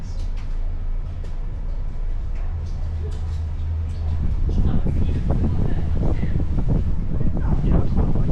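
Strong wind roars across the microphone on the deck of a sightseeing boat on Lake Ashi, Japan, growing louder and gustier partway through, with faint rushing water beneath.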